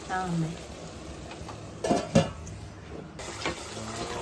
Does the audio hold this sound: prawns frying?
yes